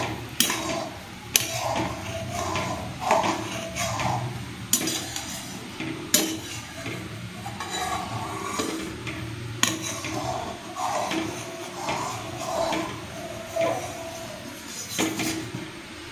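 Browning ghee is stirred in a pan, with repeated scraping and clinking of a utensil against the metal over a low bubbling sizzle, set in a steady rhythm close by.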